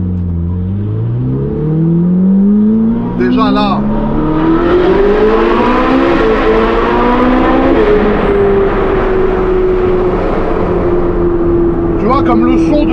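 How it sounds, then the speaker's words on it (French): Ferrari V8 engine revving loudly and continuously, its pitch climbing and holding high as the revs rise, with someone talking over it briefly. "Le V8 peut pas faire plus de bruit que ça."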